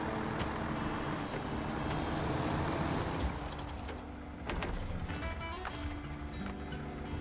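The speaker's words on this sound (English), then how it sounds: "The only reason I picked this truck is it's got like a unique engine sound." In the Snowrunner video game, a truck engine with a raspy exhaust rumbles continuously. The low, gritty drone stays fairly steady throughout, with slight shifts in intensity and no one speaking.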